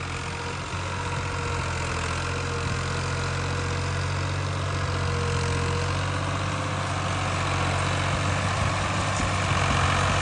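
A tractor rumbles down a sand dune, its engine giving a steady, loud, low drone with an even idling throb throughout and a slight swell near the end.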